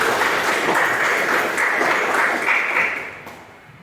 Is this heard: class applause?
yes